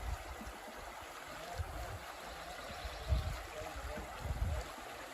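A river in the Oklahoma woods flows with a soft, continuous rush of water, faint and steady, with low rumbling swells and no talking over it.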